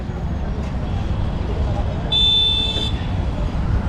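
Steady roadway traffic rumbles nearby, and a single car horn blares for about a second midway through.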